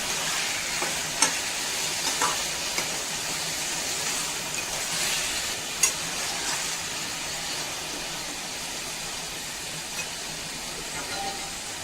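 Potatoes and green chillies fry in a pan, giving a steady, close sizzle that carries on throughout with a few sharp clicks of stirring.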